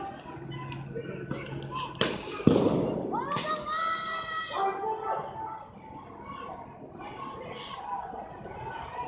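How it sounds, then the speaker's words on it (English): Flashbang grenades go off outside the Twin Towers Correctional Facility in downtown Los Angeles: one sharp, loud blast and thud with a brief echoing tail, over crowd noise and voices talking nearby. "We got some flashbangs up at the front."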